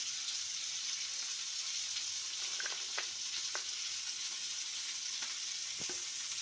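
Cashews and garlic sizzling in oil in a pan for gravy, a steady bright frying hiss with a few soft clicks of stirring, no talking.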